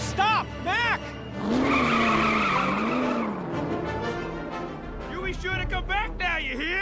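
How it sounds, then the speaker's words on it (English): An animated car spins donuts at a truck stop, its tires skidding and squealing in a broad, sustained burst while the engine hums and wavers. Excited cartoon voices chatter before and after the skid. "He's doing donuts for us!"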